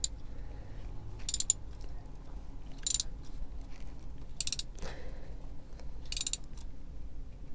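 A ratchet wrench tightens a spark plug on a Suzuki Carry, giving four evenly spaced bursts of quick metallic clicking up close over a low background hum.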